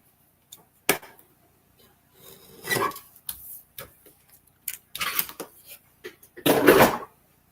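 Cardstock being trimmed for a slimline card on a paper trimmer, with a few sharp close slicing and rasping strokes separated by quiet gaps and small handling clicks.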